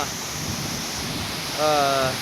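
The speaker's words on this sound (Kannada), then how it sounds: "ಈ ರೀತಿ ಇದೆ ಹೊನ್ನಮ್ಮ ದೇವಿ ಫಾಲ್ಸು" Honnamma Devi waterfall near Chikmagalur pours with a constant rushing hiss of cascading water. A voice briefly rises over the roar near the end.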